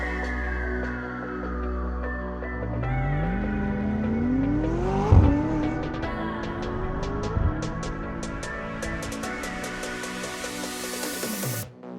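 A 2020 McLaren 600LT Spider sports car drives, its engine revving up and down through rising and falling tones, with loud surges and a few sharp throttle blips, no voices.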